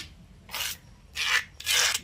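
Mint chutney ingredients with onion are ground in a mortar: three rough, rasping strokes come close and fairly loud, each about a quarter second long and separated by short pauses. No one speaks.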